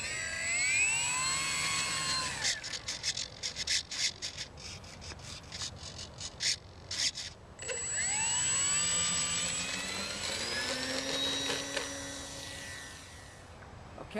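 Stock ParkZone Sport Cub RC airplane on its maiden flight on a 3-cell battery, electric motor whining and shifting pitch as it passes near and far, throttle changing, with a sputtering patch in the middle.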